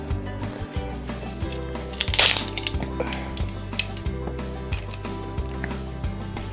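Two pieces of wood are pried and broken apart by hand without a saw, with creaking cracks and one sharp snap near the middle, set over a low background hum.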